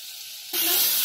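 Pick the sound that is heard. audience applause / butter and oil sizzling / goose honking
butter and oil sizzling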